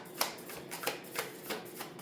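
A deck of tarot cards being shuffled by hand, close up, in a steady run of soft riffling bursts about every third of a second, with no talking.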